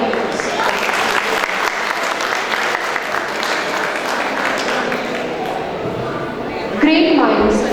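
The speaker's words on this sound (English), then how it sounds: "a big round of applause" Sustained applause from an audience at a university Foundation Day celebration, a dense steady roar of clapping, with a voice briefly speaking near the end.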